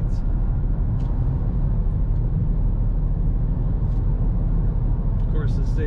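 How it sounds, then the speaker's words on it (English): A 2021 Dodge Charger Hellcat Redeye Widebody on the road makes a deep, steady exhaust rumble with constant low drone and road noise, heard from inside the car beneath a talking voice. "Very quiet ride except for that nice exhaust rumble when you get on"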